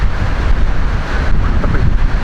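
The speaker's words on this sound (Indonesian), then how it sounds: "Makanya anginnya pun udah terasa kencang banget." Strong, steady wind roaring against the microphone on a mountain trail near a rest post on Mount Lawu, at about 2,220 metres, with a dense, continuous rumble and no voices.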